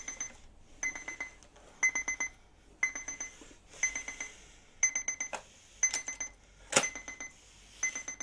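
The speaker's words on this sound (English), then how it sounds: "That's the alarm." An alarm clock rings in a repeating pattern of short metallic buzzing bursts, evenly spaced and close, with a brief click near the end.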